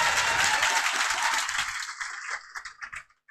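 A class audience applauds to welcome a teacher named Kapil Sir at a polity class in Bihar, a dense loud burst of many hands that thins into scattered claps and fades out near the end.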